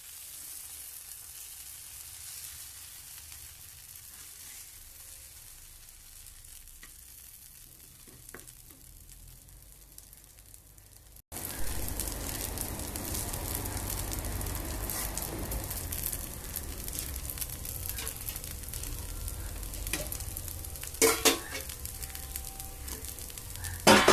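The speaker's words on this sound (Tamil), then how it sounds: "வறுத்துக்கிட்டு" Onion dosa fries on a griddle in road-side stall style, starting as a faint soft sizzle, then jumping to a loud, dense crackling hiss with a few sharp pops near the end.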